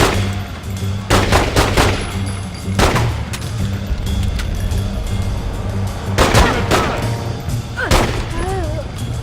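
Gunfire in The Godfather II video game: loud, close bursts of rapid shots in separate volleys over a steady droning background, with faint voices between.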